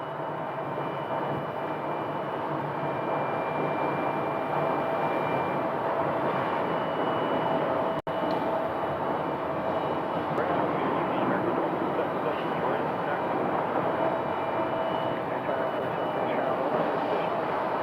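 A jet airliner rumbles steadily at Sky Harbor airport as it makes a long, floating landing, a broad, sustained roar holding at constant loudness throughout, with a brief sharp click partway through and no voices.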